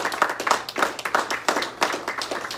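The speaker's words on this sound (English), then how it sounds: "A round of applause and praise Him." A church congregation breaks into applause, with steady, close clapping from many hands filling the space and a few voices mixed in.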